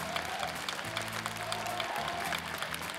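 Audience applause at the close of a performance on the Turkish TV singing contest Maske Kimsin Sen?, a steady dense clapping that holds at an even level throughout, with music or a held tone beneath it.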